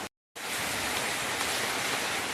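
Steady heavy rain falls outside as a dense, even hiss after a brief cut of silence at the start, with no voices.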